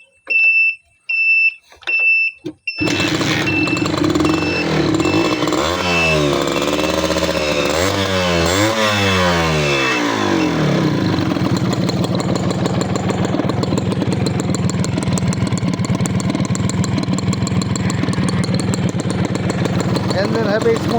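A Honda CDI motorcycle engine is started after a few short beeps, catching with a rising rev, then settling into a steady, close, even idle that runs on without a break, with a voice talking over it.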